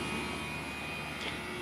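A Carrier Greenspeed heat pump running at full speed in cooling mode, a steady even broadband whoosh of fan and compressor with a faint constant tone, heard alone.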